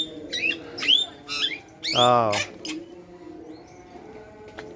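Birds in a zoo aviary give several sharp, rising chirps and squeaky calls in quick bursts, close by, with a short exclaimed voice among them.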